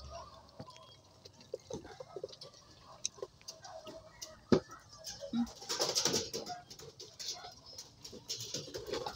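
Soft coos of caged pigeons mixed with scattered clicks and rustling, with people talking nearby in Filipino; a busier burst of fluttering and noise in the middle.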